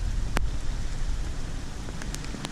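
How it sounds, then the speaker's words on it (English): Heavy rain falls steadily outdoors at a backwoods truck campsite, a dense constant hiss with a few sharp drips and taps close by. "I cannot believe it's still raining this hard."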